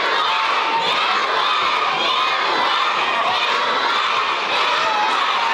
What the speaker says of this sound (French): Jusqu'à 3 et on crie Papa Noël.